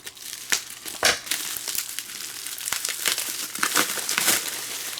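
Packaging crinkles and rustles as a small glass bell dome embellishment is unwrapped, with irregular sharp crackles and crumpling bursts close by, no voices.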